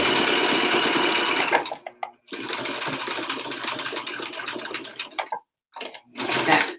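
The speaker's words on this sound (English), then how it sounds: "Back stitch a couple of stitches. Pull that presser foot up." Sewing machine stitching an old t-shirt into a helmet bag, running in close, busy bursts with a brief pause near two seconds, another gap near five and a half, then resuming.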